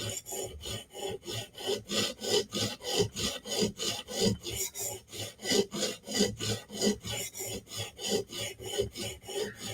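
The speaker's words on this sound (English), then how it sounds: "you just got to keep on scrubbing on that spot to get that to go away" A Spyderco knife edge is scrubbed back and forth on a Hapstone RS sharpening stone, with steady, evenly spaced rasping strokes repeating about two or three times a second, close and alone.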